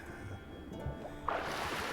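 Rowing boat pulling away across the water in the video game The Witcher 3, a soft splashing and swishing that swells in the second half, alone with no talk.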